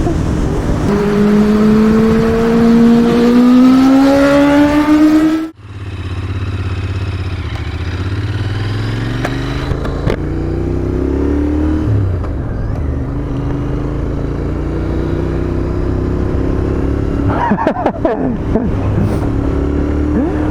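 Royal Enfield Interceptor 650 motorcycle engine rising in a strong rev for several seconds, then cutting off abruptly, followed by a lower rumbling idle with occasional blips and clatter close by.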